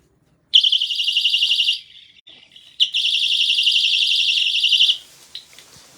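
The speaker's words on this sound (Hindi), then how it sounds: "अलार्म आपको एमरजेंसी अलार्म लेडीज़ के बैग के अंदर रखने के लिए ये मिलेगा" A personal emergency alarm made to carry in a ladies' bag shrieks with a piercing, warbling electronic siren in two close bursts, the second longer, with no other sound around it.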